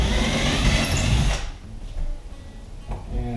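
A power drill pre-drills screw holes into drywall for a coat rack, a loud steady whir lasting about a second and a half before cutting off, followed by quieter room noise and faint handling sounds.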